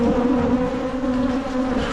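Honey bees buzzing densely around beehive colonies, including triple-deep and double-deep hives, a loud continuous close drone with no talk.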